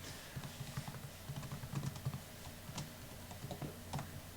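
Quiet, close keystrokes on a computer keyboard while a password is entered, irregular clusters of soft clicks over a faint hum with no speech.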